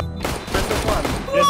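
Gunfire in the game CS:GO, a short loud burst of rapid shots packed close together.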